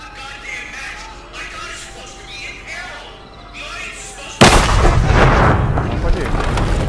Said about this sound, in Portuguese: Eu joguei a granada aqui, ó.